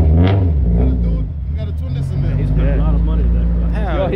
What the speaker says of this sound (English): That's a twin disc clutch.